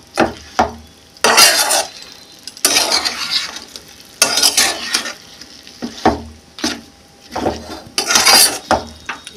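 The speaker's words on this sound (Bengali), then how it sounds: "ঝিঙে, মাছ, আলু মশলাটার সাথে পুরো মাখিয়ে নেব।" Ridge gourd, fish and potato are tossed with spice paste in a pan, with loud bursts of scraping and sizzling as the spoon stirs, spaced by short pauses and occasional metal clinks; no talking.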